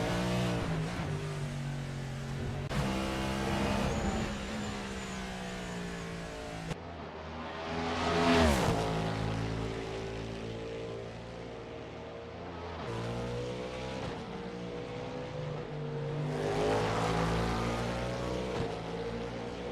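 Race car on track during the 2025 Bahrain 2.4-hour online racing event, a steady high-pitched engine whine with rising and falling revs and gear shifts, sustained and fairly loud with no talking.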